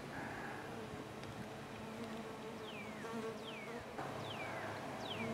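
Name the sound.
honey bees swarming around gas tank hive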